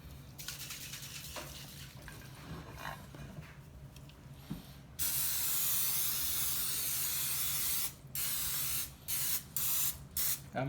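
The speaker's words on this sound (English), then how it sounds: "Then I'm going to spray the glass pan with canola oil." An aerosol can of canola oil hisses in a long steady burst onto a glass pan, then several short sharp spritzes follow in quick succession, close and loud.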